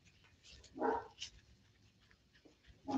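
An unhappy dog indoors gives a few faint, distant barks and whines, quiet against a low room background.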